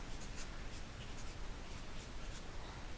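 A marker or pen scratches steadily across a board during a machine learning lecture on random variables, a continuous close scraping with faint rhythmic strokes.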